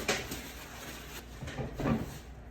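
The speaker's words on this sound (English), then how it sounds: "Yeah, this is a drawer." A wooden kitchen corner cabinet drawer being handled during assembly, giving a few short knocks and sliding scrapes spread over a couple of seconds, close and moderately loud, with no talking.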